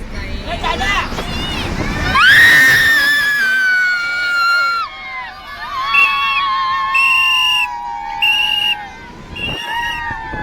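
A crowd of people shrieking and whooping, loud and echoing as if in an enclosed space, with rising whistles and shouts trailing off.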